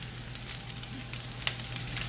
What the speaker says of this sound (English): You can hear the sizzle, and to get a nice crisp bottom on our potato rosti